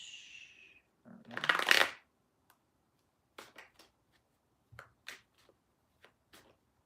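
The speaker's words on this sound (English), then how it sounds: "You saw me shuffle that a ton." A burst of tarot card shuffling, a riffle of crisp flapping, followed by scattered soft taps and clicks of cards being handled, close and quiet.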